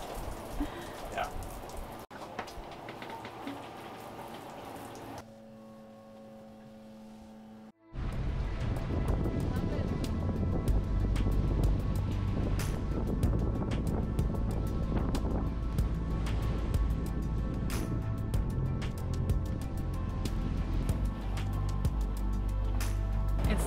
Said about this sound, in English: We have our most windy day yet, with winds of 26 to 30 knots.